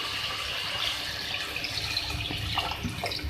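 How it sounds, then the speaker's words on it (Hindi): Water pours steadily into a pot of browned beef and cabbage, a continuous splashing rush with a few gurgles, close by and fairly loud, with no talking. "अब मैं इसमें ऐड करूँगी पानी इसको गलाने के लिए"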